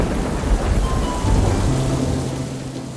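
Cartoon thunderstorm effect with a continuous, loud wash of heavy rain and a low rumbling roar of thunder, with no voices.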